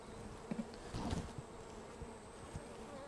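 Honey bees buzz in an opened hive during an inspection, a low steady hum of many insects close by, with a few soft knocks and handling noises and no talk.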